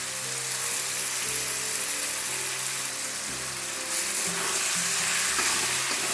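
Steady hiss and crackle of ash gourd frying in a pan with green chillies just after poppy seed paste is added, loud and close with faint stirring scrapes, and no voices.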